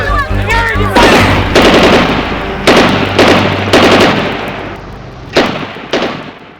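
Rifle gunfire in a battle: a rapid volley of loud, sharp shots crack close by, followed by several more spaced single shots with reverberating tails, after a brief shouted voice at the start.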